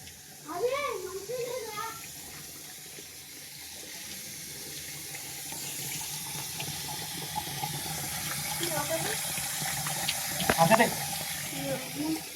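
Dishes are washed under a running tap in a village home, with a steady hiss of flowing water filling the clip. Voices, including a child's, talk over the water and near the start.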